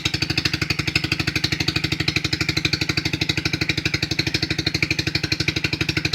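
A 2008 200cc dirt bike engine idles steadily after a cold start with the choke fully off, its loud, close exhaust pulses thumping in a fast, even rhythm throughout.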